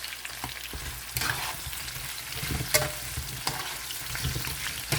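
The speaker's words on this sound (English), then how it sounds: "I'll have to add my red cooking onions and my hot jalapeno peppers" Red cooking onions and hot jalapeno peppers fry in a pan with a steady crackling sizzle, punctuated by occasional sharper pops and stirring scrapes, close up.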